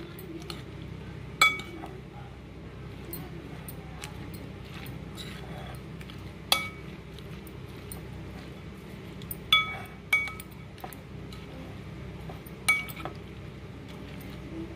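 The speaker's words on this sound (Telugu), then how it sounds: "సోస్ వేసేసుకొని మనం బాగా మిక్స్ చేసుకోవాలన్నమాట." Egg omelette Caesar salad being mixed with sauce in a glass dish, occasional bright clinks of a utensil against the dish spaced a few seconds apart over quiet room tone, without speech.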